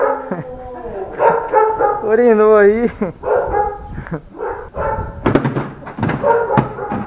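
A house dog barks several times and gives a long, wavering whimper, close and loud, while people talk over and around it.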